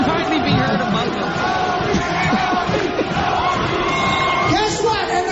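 Rowdy studio crowd on the Howard Stern Show, many voices yelling and whooping together in a dense, continuous din with loud overlapping shouts throughout.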